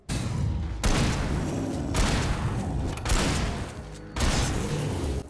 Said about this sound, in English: I think the reason why the shooting is so good is the sound of the guns